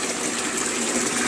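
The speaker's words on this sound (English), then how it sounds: "It comes out pretty quick once the siphon gets going" An aquaponics bell siphon draining a tank, water gushing out in a steady, fairly loud rush for the whole brief moment, with no talking.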